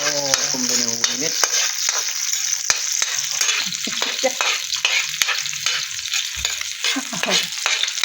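Crab pieces fry and get stirred in hot oil for ginataang crabs, a steady bright sizzle broken by scraping utensil strokes and sharp clinks against the pan, close and continuous with no voices.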